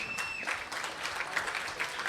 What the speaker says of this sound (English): let's have a big round of applause for the 2nd place finisher in junior singles from Austria, Ludwig Gansch